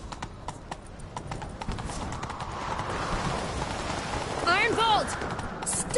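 Hoofbeats clip-clop at a steady galloping rhythm in The Witcher 3, with rain pattering throughout and a brief whooshing, swirling effect near the end.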